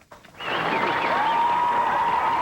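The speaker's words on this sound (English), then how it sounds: "a crowd of military families cheered" Crowd of military families cheering at Hickam Field, Hawaii, as a Navy pilot steps off a plane: a sustained, loud wash of cheers and clapping that swells in after a brief quiet start, with a high whistle or shout riding over it.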